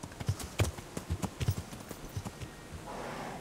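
Horse hooves clip-clop in the medieval video game Kingdom Come Deliverance, a string of close, fairly loud thuds in an uneven gallop-like rhythm that fades into a soft wash of noise at the end.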